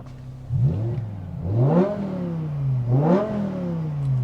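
A BMW E60 M5 with its V10 engine revs up and falls back twice in smooth, rising and falling sweeps, heard close and fairly loud with no talking.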